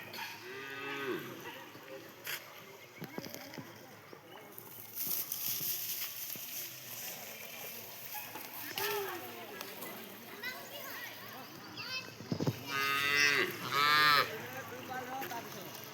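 Cows are bathed at a river, and one gives a low moo at the start and louder, drawn-out moos toward the end amid splashing and handling noises, with people talking throughout.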